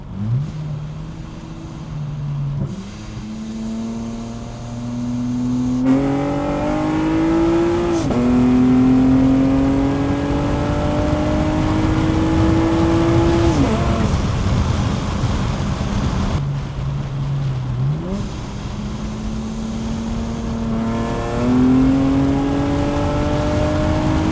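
A supercharged Acura TL-S with a five-speed automatic accelerates hard from inside the car. Engine revs climb steadily through several gears with short dips at each shift, loud and sustained, with no talking.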